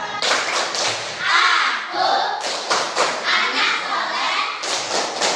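Children clap their hands in quick bursts while chanting together loudly in a religious children's clapping game, with voices dominating throughout.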